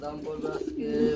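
A male yellow Lahori pigeon coos in a short, soft, warbling call, fairly close, over faint background murmur.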